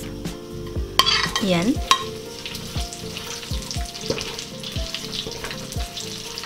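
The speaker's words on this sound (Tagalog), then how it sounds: "Ngayon po ay igigisa natin ng konti yung ating white onions." White onions sauté in a pan for Bistek Tagalog, with a steady sizzle and repeated close, rhythmic stirring scrapes and taps; a voice briefly speaks a single word.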